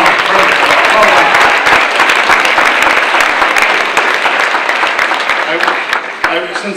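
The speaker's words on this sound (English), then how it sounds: "Please give a huge round of applause to George" Sustained audience applause at a Plymouth County Democratic League breakfast in honor of George, dense and loud throughout and tapering slightly near the end.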